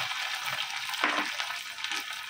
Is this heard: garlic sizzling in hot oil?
yes